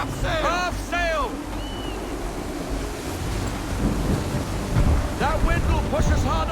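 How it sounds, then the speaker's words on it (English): Strong gusting wind and sea noise roll around a sailing ship in the Assassin's Creed video game, a steady loud roar with rising swells, while crew voices shout orders over it. "Heavy gusts, captain."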